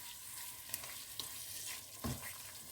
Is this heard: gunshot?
no